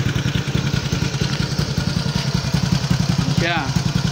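A motorcycle idling after a new exhaust pipe has been fitted, with a steady, fairly quiet, even chugging that stays close, and someone talking over it.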